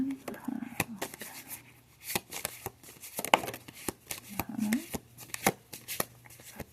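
Tarot cards are shuffled by hand in a series of crisp, riffling bursts and soft slaps at an irregular pace, with faint voice sounds between them.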